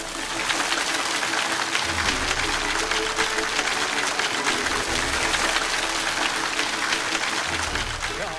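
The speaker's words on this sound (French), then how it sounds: "Des applaudissements pour accueillir Wang Zhelin" An audience applauding to welcome a guest speaker at a stage event, a dense, even wash of clapping sustained throughout at moderate loudness, with a few low murmurs beneath.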